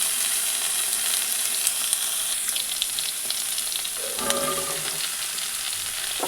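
Raw green banana goes into a pan of hot oil already seasoned with nigella seeds and radhuni, giving a steady close sizzle and frying hiss, with a sharper crackle and stirring surge about two thirds of the way through.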